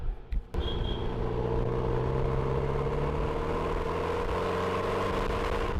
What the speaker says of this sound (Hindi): एक बारी एग्जॉस्ट की साउंड सुनो